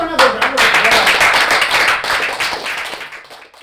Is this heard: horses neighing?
no